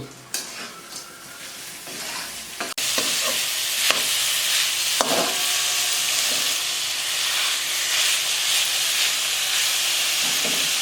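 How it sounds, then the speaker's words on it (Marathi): Grated coconut with jaggery and cardamom powder stir-fried in a pan for aliv laddoos, a quiet start then a sudden loud, steady sizzle and hiss with occasional spatula scrapes. "याला एक दोन मिनटं चांगलं परतून घेऊ"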